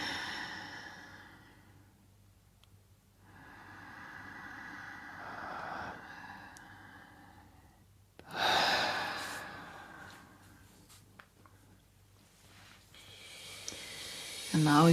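People in a group breathwork session breathe deeply, with long hissing inhales and exhales that swell and fade in slow waves. A sharp, louder rush of breath rises near the middle.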